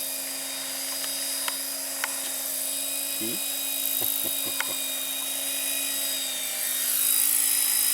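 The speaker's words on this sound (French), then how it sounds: "Voilà, regarde bien ton hélico." A model helicopter hovers just above grass outdoors, its steady rotor and motor whine holding a constant tone throughout, with a few short voices talking nearby and the drone swelling slightly near the end.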